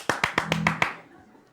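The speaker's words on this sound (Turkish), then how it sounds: "Bir doya doya bir alkışlayın ya." Sharp, close handclaps on a Turkish television talk show, about six distinct claps in quick succession that then stop, leaving a brief decaying tail.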